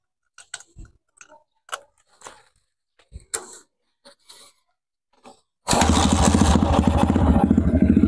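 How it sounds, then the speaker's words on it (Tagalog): Motorcycle converted to battery-operated ignition, kick-started after several clicks and knocks, then catching at once into a loud, steady, close idling engine. "So mga kalikot, easy kickstart. One click, one kick."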